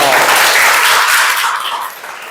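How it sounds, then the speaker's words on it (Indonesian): Applause from a class of schoolchildren, a dense wash of many hands clapping at once, loud at first and tapering off toward the end. "Tepuk tangan dong"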